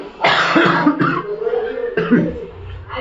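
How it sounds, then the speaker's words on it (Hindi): Several harsh coughs come in two close bursts, loud and near, with a rough throaty quality between them. "फिर सभी खांसी शुरू हो रही"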